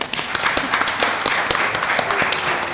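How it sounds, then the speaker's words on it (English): A convention audience at a farm bureau discussion meet gives a round of applause for the contest judges, dense clapping from many hands, loud and close, sustained for the whole stretch. "Let's all give them a round of applause."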